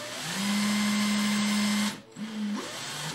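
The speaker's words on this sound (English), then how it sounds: "you can proceed to drill all the way in" A small drill bores into a fishing float during modification, a steady whirring hum that stops briefly and then restarts, close and moderately loud, with no talking.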